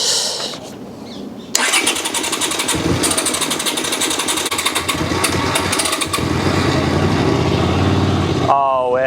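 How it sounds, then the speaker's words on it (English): A Honda motorbike, unused for 25 years, cranks and catches, then settles into a loud, steady idle with a rapid, close engine pulse; a voice is heard briefly at the end. "I just wanted to hear that the bike runs"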